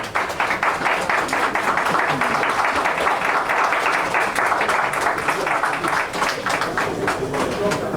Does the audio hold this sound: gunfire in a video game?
no